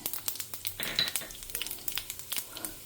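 Black pepper and cumin fry in a pan with light crackles and pops over a soft sizzle, fairly close and moderately quiet, with irregular bursts throughout.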